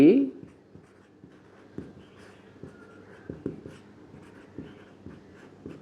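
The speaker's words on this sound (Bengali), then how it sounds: "প্রমাণ এখান থেকে লিখি" Faint scratching and light taps of a pen writing on paper during a statistics lecture, with a brief voice at the start and soft, irregular strokes continuing quietly after it.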